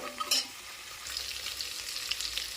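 Cashews frying in oil for a coconut pulao, a steady close hissing sizzle with a brief clatter near the start, fairly quiet and with no talking.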